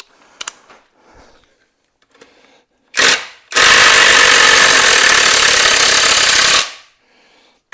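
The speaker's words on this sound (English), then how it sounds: "let's wind them out if we can, with the old impact driver again" An impact driver winds bolts out of the rear subframe of a Jaguar XKR under restoration: a short buzzing burst, then a loud, sustained rattling whir of about three seconds, with faint workshop knocks before and after.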